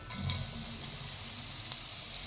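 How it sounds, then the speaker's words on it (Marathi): Spice paste frying in hot oil with cumin in a kadhai, a soft, steady sizzle at low volume with a couple of faint clicks of stirring and no talk. "या तेलात परतून घ्यायचं वाटण"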